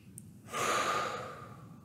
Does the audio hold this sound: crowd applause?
no